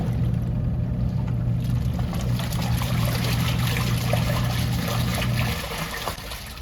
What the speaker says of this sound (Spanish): la tapita de suavizante para telas. Le voy a echar 2 tapitas.